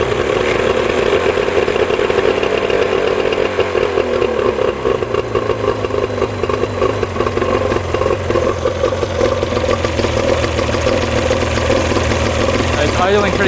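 An old engine on an abandoned fishing boat idles after both carburetors were cleaned, a loud, steady, rough mechanical chug close by that settles into an even rhythm.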